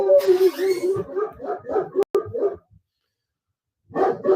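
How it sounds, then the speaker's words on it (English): A dog barks and yips repeatedly in the background while a person speaks, then the room falls quiet before another short burst of barking. "Sorry if you can hear my dog in the background."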